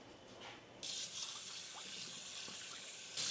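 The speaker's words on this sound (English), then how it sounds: "So I'm just going to pour that into a strainer." Hot ground beef grease is poured from a pan into a strainer over a sink, giving a soft, steady splashing liquid hiss that starts abruptly and continues, with a brief clatter near the end.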